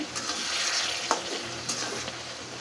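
Water lily stems being sautéed in a pan for a pangas fish curry, a steady close sizzle with scraping stirs of the spatula and a couple of sharper clinks, no voices.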